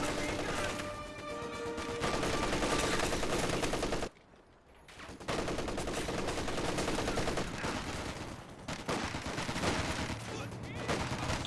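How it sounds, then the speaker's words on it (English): An MG34 machine gun fires in Company of Heroes 2 in dense, sustained bursts amid loud battle noise and other gunfire, broken by a short lull, with a voice talking over it. "I see here the MG34 suppressing down this intersection."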